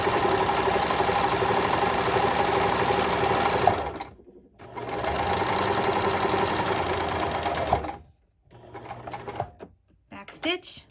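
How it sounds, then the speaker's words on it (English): A sewing machine stitches an apron neck strap with straight stitches and a back stitch. Two steady, close, loud runs of rapid mechanical needle chatter are each broken by a short pause, and a few lighter clicks follow at the end. "Do a couple straight stitches, back stitch to lock them in place,"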